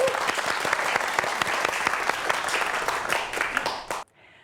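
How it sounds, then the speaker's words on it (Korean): Studio audience applauds warmly at a Korean science-and-magic TV lecture show, a dense steady patter of many hands lasting about four seconds before cutting off abruptly into near silence. "박수 부탁드릴게요"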